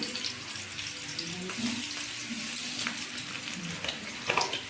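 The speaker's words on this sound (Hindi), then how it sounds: "तो हम इसको अच्छे से फ्राई कर लेंगे गोल्डन ब्राउन आने तक।" Potatoes for dhaba-style dum aloo, seasoned with turmeric and salt, frying in a pan with a steady broad sizzle and occasional stirring scrapes and clinks, close and moderately loud with no voices.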